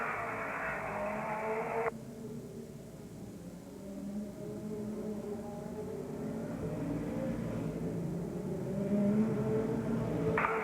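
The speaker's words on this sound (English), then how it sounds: "All right, moving through the turn, and Joe Shear with his snowplow all tucked" Short-track race cars at the 1981 National Short Track Championship 200 roar through a turn, a sustained distant engine drone rising and falling as the pack passes.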